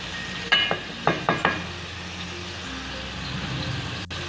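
A spoon taps the pan several times, and then spices and ginger-garlic paste sizzle and fry while being stirred. A soft, continuous frying hiss follows the quick metallic clinks, close by and without talk.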